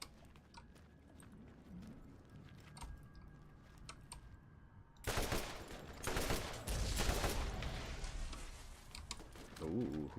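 Rapid bursts of gunfire in the shooter game Borderlands, in Ultimate Arcade Mode, come in loud and dense after a quieter stretch and keep going in clustered volleys.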